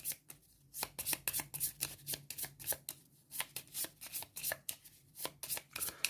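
Cards of a motif draw pile from the Bullet board game being shuffled by hand, a quick run of crisp riffling flicks and taps repeating steadily, close and fairly quiet, with no voices.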